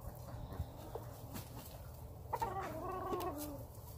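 Gilmore gamefowl hens clucking in a yard, a few soft irregular clucks and a brief louder burst of calls near the end, over low background noise.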